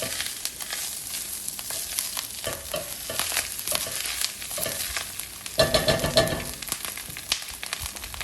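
Corned beef sizzles steadily in a hot pan as its fat renders out, a dense continuous crackle with occasional louder spits and a brief stir or scrape partway through, no voices.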